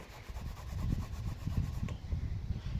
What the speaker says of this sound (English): Grab the rag, set it under the valve, and start polishing up that valve.